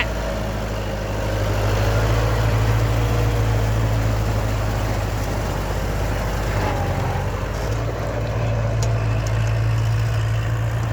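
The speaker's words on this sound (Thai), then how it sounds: "รถไถสี่คันอยู่ฝั่งโน้นอีกสองคันครับ" A Kubota L5018SP tractor engine rumbles steadily in a flooded rice field during dry-seeded paddy work, a loud, even low hum with a slight rise in intensity after the first second.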